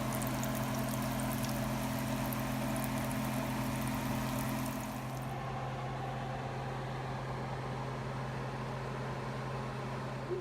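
Cooking oil pours in a home kitchen for about five seconds as a soft, steady stream, then stops, leaving a low, constant appliance hum underneath.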